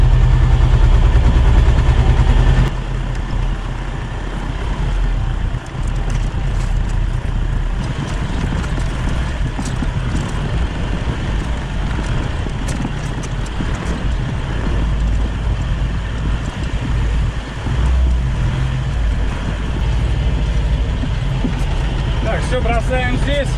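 A T-25 tractor engine drones steadily and loudly while driving, a continuous low rumble that begins with a brief louder burst and then runs on without pause.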